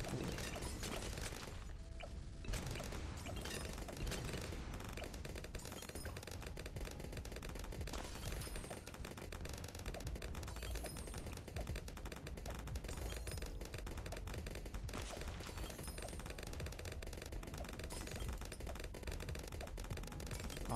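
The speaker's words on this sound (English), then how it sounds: "Rains explosions over the screen" Dense, continuous barrage of video game mortar-ability explosions and rapid popping blasts, loud and relentless with no pauses.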